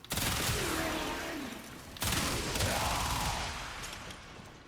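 Gunfire in the video game Warframe while playing as Harrow, two quick bursts of rapid shots at moderate distance, each fading out over a couple of seconds with no talking.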